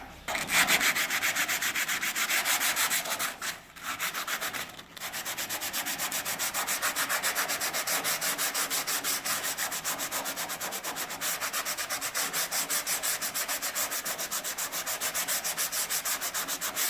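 Rapid rhythmic scratching of 120-grit sandpaper rubbed back and forth over body filler on a Lancia Prisma HF Integrale, close up, with a couple of brief pauses early on.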